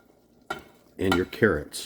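A utensil clinks and scrapes against a pot while hot and sour soup is stirred, a few light knocks in quick succession, with someone briefly speaking over it.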